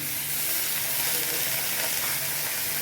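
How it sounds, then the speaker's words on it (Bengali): Dried fish (shutki) added to a pan and frying for a turmeric-free curry, a loud, close, continuous hissing sizzle with no voices. "এখন এখানে শুটকি আছে, শুটকিটা দিয়ে দিচ্ছি।"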